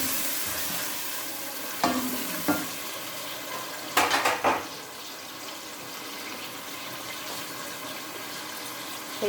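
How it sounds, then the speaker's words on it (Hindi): Tomato paste dropped into a hot pan for kadhi gives a burst of sizzling and spatter, with a few sharp clatters of a spoon stirring against the pan, then a quieter, steady hiss. "जो हमने टमाटरों का पेस्ट बनाया हुआ था वो मैं डालूँगी अब"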